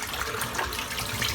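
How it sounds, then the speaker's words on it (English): Shaving brush rinsed under running tap water, a brief, close, steady gushing splash with no voices. "I can rinse my brush out."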